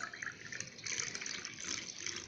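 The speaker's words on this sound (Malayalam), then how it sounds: "പിന്നെ അതിലേക്ക് ബാക്കി ഞാൻ വെള്ളമാണ് ഒഴിക്കുന്നത്" Water poured into a pan of milk for herbal tea, a soft continuous trickling stream, fairly faint and close, with no voices.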